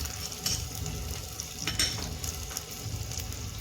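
Crushed garlic goes into onions frying in a pan, giving a soft, steady sizzle with light stirring scrapes, fairly quiet and free of speech.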